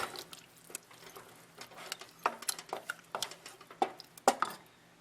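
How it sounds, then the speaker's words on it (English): Cauliflower soup with kielbasa gets a light stir in a pot, making soft irregular scrapes, clinks and wet patters from the spoon against the metal, quiet and close. "Just give it a little stir."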